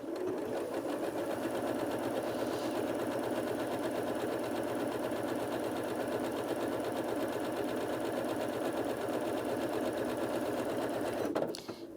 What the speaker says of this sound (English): it's just sewing 3 stitches on the spot to secure the thread